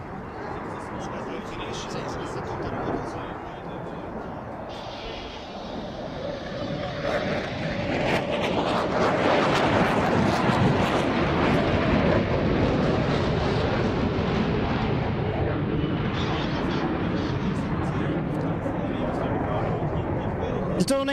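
Tornado jet performing an airshow display with full afterburner through a Schneider turn, a loud roaring rumble that swells and holds steady, with commentary spoken over it throughout.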